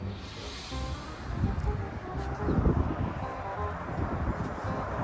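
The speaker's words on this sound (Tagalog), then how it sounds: "Ayan, napakalakas ng hangin." Strong wind buffets the microphone in a continuous, gusty roar with rustling, swelling louder midway, heard outdoors on a cloudy day with no other clear sounds.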